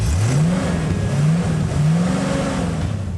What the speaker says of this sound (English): Hearing the engine he had rebuilt hum along made him smile